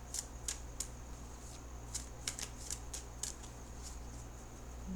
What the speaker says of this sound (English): So I'm going to shuffle for just a couple more seconds.